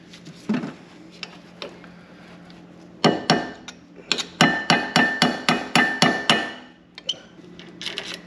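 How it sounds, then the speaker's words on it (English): A heavy hammer drives a part into place on a 1992 Firebird, a close series of sharp metallic strikes, a couple of isolated blows and then a rapid run of about eight evenly spaced ringing hits. "You need a fairly heavy hammer to get that dropped in."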